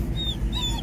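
A dog whimpers inside a car parked on a Channel Tunnel shuttle train, giving thin, high whines in two brief rising bursts over a steady low rumble from the train.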